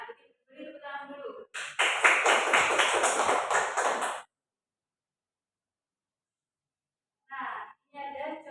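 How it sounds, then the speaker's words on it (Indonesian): Classroom clapping breaks out loud and close for about three seconds, a dense burst of many hands, framed by a teacher speaking before and after a stretch of silence. "Beri tepuk tangan dulu."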